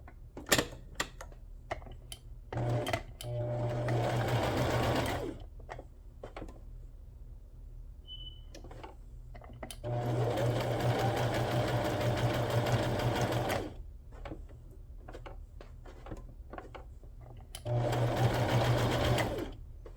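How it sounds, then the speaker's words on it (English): A sewing machine stitches around a paper sentiment for a card craft, running in three steady, loud bursts of rapid mechanical whirring, separated by quieter pauses with light clicks and handling. "I'm going to go ahead and sew around my sentiment."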